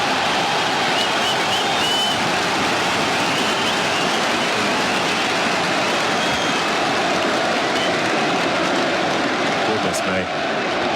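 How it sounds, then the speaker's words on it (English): Standing ovation from the Western Terrace crowd at Headingley as England reach 200 during the Ashes Test, a loud continuous wash of applause and cheering that fills the whole stretch without letup, with voices talking over it. "And there's England's 200, a standing ovation from the Western Terrace."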